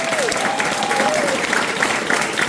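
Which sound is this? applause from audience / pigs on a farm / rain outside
applause from audience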